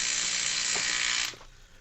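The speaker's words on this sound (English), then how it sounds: "The air conditioner just went off and that scared me." A room air conditioner runs with a steady, loud whooshing hum, then abruptly shuts off with a brief mechanical clunk. Near silence follows after the airflow winds down.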